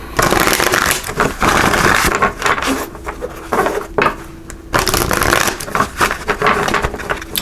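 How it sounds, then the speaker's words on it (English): Oracle cards are shuffled by hand in repeated bursts of crisp riffling and rubbing, close and fairly loud, with short pauses between passes. "So let's give these a good shuffle."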